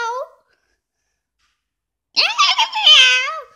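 A voice imitates a cat's meow, a brief mew followed after a pause by a longer, drawn-out, wavering meow, loud and close.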